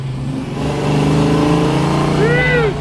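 A 1969 Chevrolet Camaro Z28 V8 with a solid lifter cam idles and revs loudly and steadily nearby, a deep throbbing rumble filling the whole stretch, with people talking over it.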